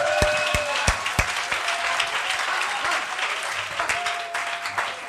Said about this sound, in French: Oh, applaudissons le Seigneur.